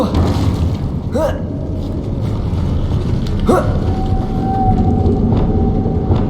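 Depulso spell casts in Hogwarts Legacy, two booming magical blasts with rising whooshes about two seconds apart, loud over a busy game soundscape with a lingering tonal hum.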